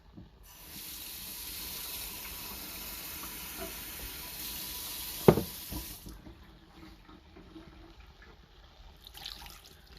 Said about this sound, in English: I'm adding about a cup of water